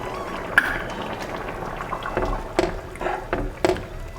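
Tamarind mixed-vegetable kuzhambu bubbling in a pot, a soft continuous simmer with scattered pops and bursts of bubbles, close and fairly quiet, with no talking.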